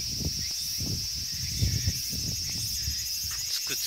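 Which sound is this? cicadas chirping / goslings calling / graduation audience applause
cicadas chirping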